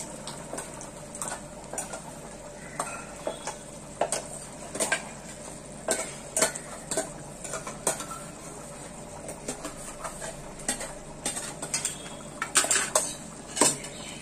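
Ground masala paste is added to boiling colocasia and stirred in a metal pot, with repeated scraping and clinking of a spoon against the pan over a soft bubbling simmer, no one speaking.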